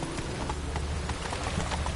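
Horse galloping in the video game Witcher 3, with quick, rhythmic hoofbeats thudding steadily and close over a continuous background wash, no talking.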